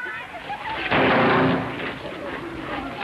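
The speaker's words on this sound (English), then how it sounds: "About time you stopped them fireworks" Fireworks going off in a street scene, a single loud booming burst followed by a fading rumble, heard over a faint background of voices.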